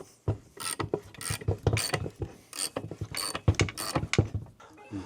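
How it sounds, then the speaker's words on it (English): Suzuki RM-Z250 engine cases from a 2004 bike are pried apart, giving a close, busy run of metallic scraping, clicking and ratcheting knocks in an uneven rhythm, with no speech. "See, the cases are opening up here"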